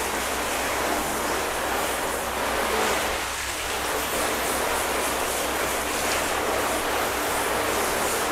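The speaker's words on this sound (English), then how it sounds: "Go back to a shower setting and we'll rinse these down." Hose on a shower setting rinsing down a coated car, a steady, loud hiss of spraying water that runs continuously without pause and without voices.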